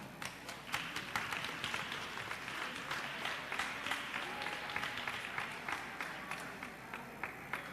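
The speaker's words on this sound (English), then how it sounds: "Give them a big round of applause, guys." An audience at the North South Foundation 2019 Finals awards ceremony applauds steadily as presenters walk onstage, a dense, sustained clapping crowd with a few sharper individual claps standing out throughout.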